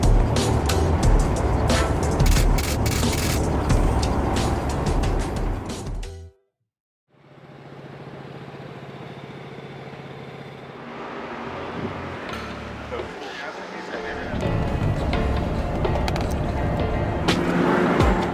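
McLaren F1 supercar cruising at highway speed on a Florida drive, its engine a steady loud drone with road and wind roar, cutting out briefly before resuming and swelling again.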